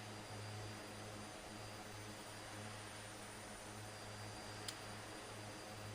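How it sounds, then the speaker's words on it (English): Float plane engine droning steadily in flight over the Chesapeake Bay, a continuous broadband roar with low tonal hum, constant and close, with a brief click near the end. "It is a float plane after all."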